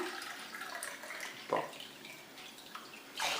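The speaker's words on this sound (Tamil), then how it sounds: "இப்போ அரை கப் பாசி பருப்புக்கு ஒரு டம்ளர் தண்ணி ஊற்றுறேன்" A short pour of water from a tumbler splashes into a pot of moong dal for barnyard millet pongal, steady and close, ending with a brief louder rush.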